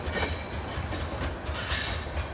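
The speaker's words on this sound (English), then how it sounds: "The first rock train of the week." A CSX rock train of loaded cars rolls past on the rails with a steady rumble and rhythmic wheel clatter, plus faint wheel squeal, heard close and continuous without pause.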